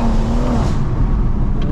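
A 475bhp BMW M140i Shadow Edition engine roars loudly from inside the car, a steady, throaty drone with a slowly shifting pitch that fills the whole short burst, with no talking.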